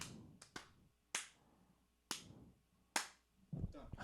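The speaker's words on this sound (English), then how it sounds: "So I'm just clapping to line up the visuals and the audio." A series of sharp hand claps, five or six distinct cracks spaced unevenly, each with a short decaying tail in a small room, used to sync sound and picture, followed by faint movement noise.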